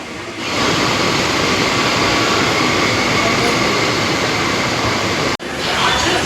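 Local train pulling into Virar station, a loud continuous rumbling roar of wheels and carriages heard from on board, steady throughout with a brief sharp dropout near the end.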